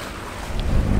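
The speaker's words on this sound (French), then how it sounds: "Donc là, on navigue à la voile et au moteur." A sailboat out on the ocean running under sail and motor at once, heard as a brief burst of loud wind rumble and rushing water noise that swells toward the end.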